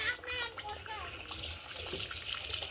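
Water runs from a tap during hand washing, a steady splashing stream with children's voices and speech over it.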